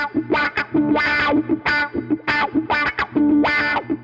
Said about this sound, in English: you physically sweep through the frequencies with your foot to create that wah-wah sound